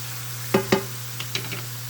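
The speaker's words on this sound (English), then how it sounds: "We're going to hit it with a little white wine. About a third a cup. We'll work that right in there." White wine is added to a hot pan of browning ground beef and stirred in, giving a soft sizzle with a few sharp scraping clacks of a utensil against the pan.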